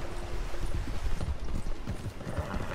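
Horse hooves clip-clopping in Red Dead Redemption 2, a steady stream of close, fairly loud hoofbeats with a faint background drone and no talk.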